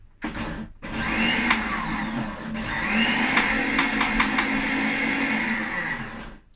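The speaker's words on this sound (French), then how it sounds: "on va commencer à faire marcher le blender" A blender whirs loudly and close while blending a raw parsley spread, briefly stopping and restarting, then running steadily with a few sharp clicks over its hum.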